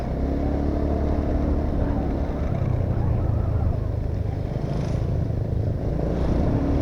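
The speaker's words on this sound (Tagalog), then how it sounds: "May dumadaan ng motor, so ibig sabihin accessible yung daan." A motorcycle engine drones steadily and loudly throughout, a constant close rumble on a dirt road near a potential camping site.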